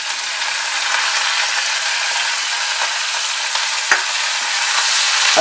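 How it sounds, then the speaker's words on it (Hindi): Long strips of white onion fry in a pan for a Jamaican brown stew chicken, giving a steady, close, even sizzle with a few faint clicks and scrapes and no voices. "हल्का सा फ्राई होने दीजिए इसे"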